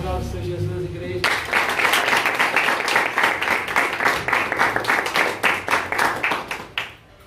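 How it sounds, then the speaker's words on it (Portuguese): A church congregation at a home worship service claps together after a sermon point, a loud rhythmic unified clapping that starts suddenly after a brief spoken line and fades out near the end. "Aplausos, Senhor Jesus, igreja."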